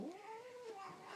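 A house cat, upset after a thunderstorm, lets out one drawn-out, rising and wavering yowl, close and clear, with no one talking over it.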